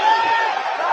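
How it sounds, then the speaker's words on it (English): A wrestling crowd erupts in a loud, dense roar of cheering and chatter that fills the whole moment, steady and close, after a stink face in the ring. "And listen to the crowd pop."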